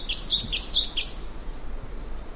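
A rosefinch gives its call, a quick series of bright, whistled chirps in rapid succession, then quieter faint notes trail off against a low hum.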